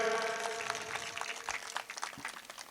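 An audience at a Ramji temple event applauding, with dense, steady clapping that fades slightly over a few seconds.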